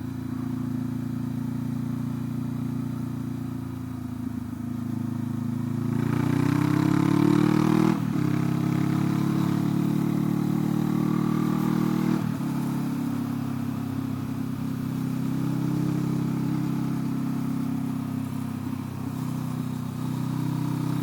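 A motorcycle engine runs steadily on a road ride while passing another vehicle, rising in a brief rev around the middle and then settling back to a constant mid-pitched drone with wind rush, close and continuous with no talk.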